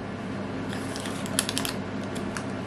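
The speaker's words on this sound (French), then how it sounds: "Je vais le couper en deux." A knife cuts a soft pizza-style muffin in half, making a brief cluster of faint crisp scraping clicks in the middle of an otherwise quiet moment.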